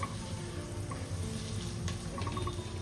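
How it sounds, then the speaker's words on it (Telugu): Chopped onions and two green chillies frying in a ceramic pot, a soft steady sizzle with faint bubbling and occasional light crackles, quiet and continuous with no talking. "ఇక్కడ నేను కట్ చేసుకున్న ఆనియన్స్ అండ్ 2 గ్రీన్ చిల్లీస్ కూడా వేసుకొని మంచిగా ఫ్రై చేసుకుంటూ ఉన్నాను"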